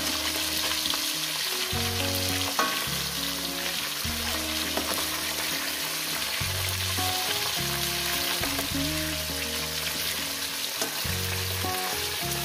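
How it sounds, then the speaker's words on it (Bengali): Rohu fish pieces sizzle steadily in hot oil in a pan, turned over to fry the other side, with a dense continuous crackle and a few louder pops and scrapes, no voices. "এই পিঠটা আমি এইভাবে ভেজে নেব।"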